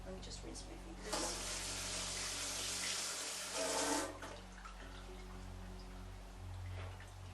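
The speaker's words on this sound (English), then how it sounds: "let me just rinse my fingers" Kitchen tap runs while fingers are rinsed, a soft steady hiss of water that swells for a few seconds and then fades, faint and close over a low background hum.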